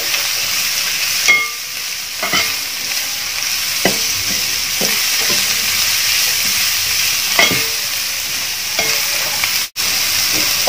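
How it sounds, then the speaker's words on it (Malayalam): Onions sizzle steadily in hot oil in a pan for chicken tikka masala, with a continuous hiss broken by periodic scraping stirs of a spatula, close and fairly loud, no voices. "ശേഷം നമുക്ക് സവാള അതിലോട്ട് ഇടാം. നമുക്കിത് വാട്ടിയെടുക്കാം."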